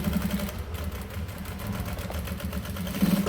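A sewing machine stitching a seam through the lining of a fabric toiletry bag, a quiet, continuous rapid mechanical clatter with a slight surge near the end.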